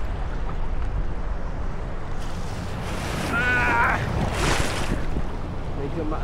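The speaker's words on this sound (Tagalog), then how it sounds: "medyo maalon pa dito." Rough sea surf rolls and crashes at a beach in Boracay, a constant loud wash mixed with wind buffeting the microphone and a swell of breaking water midway; a voice speaks briefly in the middle.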